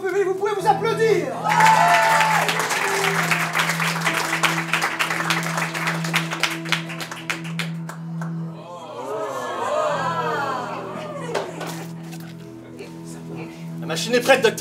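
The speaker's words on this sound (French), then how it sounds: "Bravo public, vous pouvez vous applaudir." An audience at an improv theatre festival applauds and cheers loudly for several seconds, with whoops rising over dense clapping, fading to scattered claps before a second swell of applause.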